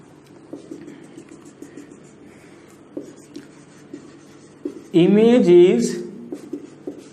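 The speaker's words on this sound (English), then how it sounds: "I am writing answer here" A marker or chalk scratches across a board in a physics classroom lesson on reflection, with repeated short strokes and a louder squeaky burst near the end.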